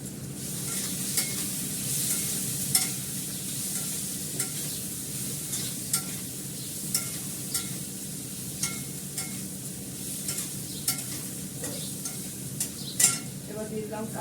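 Spice paste of ground chilli sizzling and being stirred in a pan with salted fried fish, a steady frying hiss broken by regular scraping strokes of a spoon through the whole stretch, no voices.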